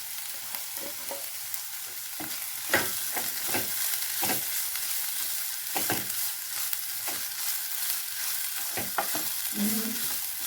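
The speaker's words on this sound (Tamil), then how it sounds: "ஒரு நிமிஷம் வந்து தேங்காய் போட்டு நல்லா வணக்கிக்கலாங்க" Grated coconut and radish sauté in a pan with a light sizzle, punctuated by irregular scraping and tapping strokes of a spoon stirring the mixture.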